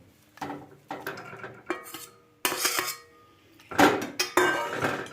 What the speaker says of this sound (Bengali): ভালো করে নেড়ে চেড়ে মিশিয়ে এটাকে আমি আবারও ঢাকা দিয়ে দেব